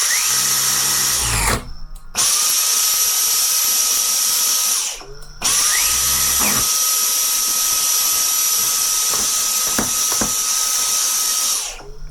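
A Dyson V10 spinning brush motor whirs up to a steady high whine, then cuts out twice with short silent gaps before restarting, close and loud, with a few faint clicks near the end.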